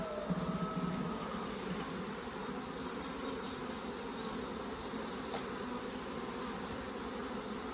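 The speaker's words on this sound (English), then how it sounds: "They will find the entrance here because bees will come out. They'll start fanning their wings" A swarm of bees buzzes steadily around an upturned swarm hive in late summer, a dense, continuous drone that stays close and even throughout with no voices.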